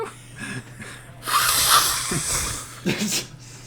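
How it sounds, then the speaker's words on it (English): Several short, breathy bursts of air through the nose, one longer dry blowing puff in the middle, close and moderately loud. "That was a very dry nose blowing."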